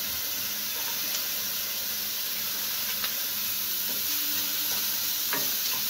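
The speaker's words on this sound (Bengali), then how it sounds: "আমি এবার এর মধ্যে দিয়ে দিচ্ছি গাজর।" Carrots go into onions frying in a pan for a vegetable soup, giving a steady, close sizzle and hiss with occasional light stirring clicks, without speech.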